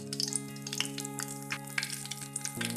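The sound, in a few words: asafoetida sizzling in hot oil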